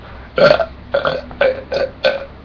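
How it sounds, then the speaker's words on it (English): A string of five dry, raspy burps in quick succession, loud and close, each a short throaty belch with brief pauses between, with no talking over them. "Dry burp for rugby."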